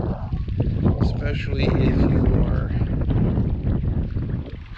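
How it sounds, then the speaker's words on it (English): Strong wind at a lake during bank fishing buffets the microphone in a loud, continuous roar, with someone talking over it. "It's like 4 o'clock in the evening, and windy as all get out."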